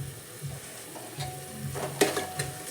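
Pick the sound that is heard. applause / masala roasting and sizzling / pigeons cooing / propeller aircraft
masala roasting and sizzling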